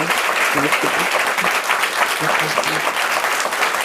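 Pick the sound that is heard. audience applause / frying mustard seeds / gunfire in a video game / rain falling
audience applause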